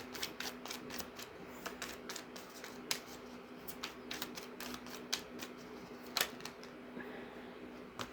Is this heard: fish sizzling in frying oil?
no